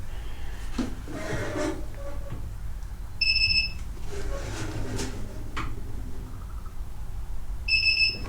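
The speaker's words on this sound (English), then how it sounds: "touch the stick where we want the weights to go until it beeps" Two short, high electronic beeps from a Katool KT-B760 tire balancer, one near the middle and one at the end, over workshop background noise.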